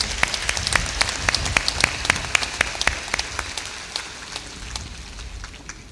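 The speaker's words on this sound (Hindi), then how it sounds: "आप उनके लिए एक बार जोरदार ताली बजाकर अभिनंदन करें।" Steady audience applause welcoming the chief minister of Chhattisgarh at a public gathering, dense sharp claps continuing evenly and slowly thinning out, with no talking.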